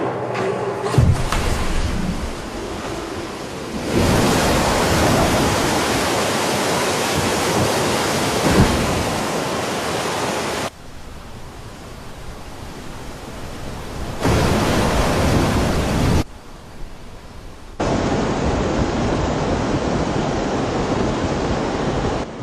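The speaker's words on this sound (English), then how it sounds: "The torrential downpour struck with overwhelming force, shaking this bustling metropolis to its core." Torrential flood water rushes through Beijing in a loud, steady roar like heavy surf, close and continuous in several long stretches split by abrupt cuts.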